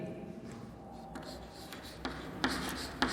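Chalk or pen scratching out notes on a board or paper in a biology lesson, a run of light strokes with a few sharper taps near the end, faint and close.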